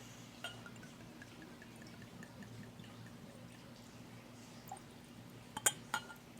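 Jameson Black Barrel whiskey is poured gently into a glass, a faint, quiet trickle over a hushed room, ending with a few sharp glassy clinks near the close.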